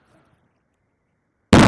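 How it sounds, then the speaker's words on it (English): A balloon filled with equal parts hydrogen and oxygen explodes: a single sudden loud bang that cuts off the near-silence right at the end. "These ones are going to go more with a bang"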